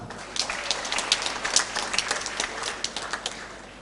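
Audience applause at a graduation ceremony, a dense, bright patter of many hands clapping together, fairly loud and close, continuing evenly throughout.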